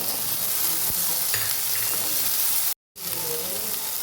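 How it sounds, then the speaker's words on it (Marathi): Garlic cloves, ginger and finely chopped tomato fry and sizzle steadily in a pan with stirring, a continuous close crackle that cuts out briefly near the end before resuming. "टोमॅटो खूप वेळ मऊ करायचं पूर्ण मऊ झालं पाहिजे तोपर्यंत त्याला फ्राय करायचं"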